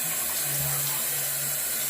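Water pours steadily from a tap while hair is being washed during a plant-based henna treatment, a loud, continuous close-up rush with no pauses.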